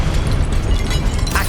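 Spell blasts from Confringo and Incendio in Hogwarts Legacy, a dense, continuous roar of fiery bursts with heavy low rumble and crackling highs, loud and unbroken throughout with no talk.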